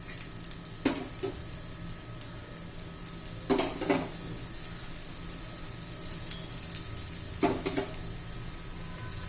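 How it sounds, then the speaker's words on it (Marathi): Crispy, spicy bitter gourd slices fry in oil in a pan with a steady close sizzle, broken by three short bursts of scraping and clinking as the slices are turned at spaced intervals. "आता आपण असं शिजून देणार आहोत हे पा ते काप आपण उलटे करून घेऊया"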